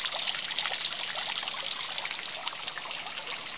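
Water trickling and splashing close by as a sample is scooped from a pond, a steady dribbling pour lasting a few seconds with no talk.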